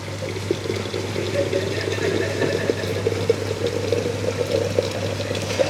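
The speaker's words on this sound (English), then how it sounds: "And you cover with boiling water," Boiling water poured from a kettle over dry lasagna sheets laid in a dish, a steady close splashing stream with a constant low hum underneath, no talk.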